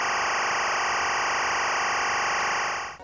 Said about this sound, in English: and that's what timecode sounds like.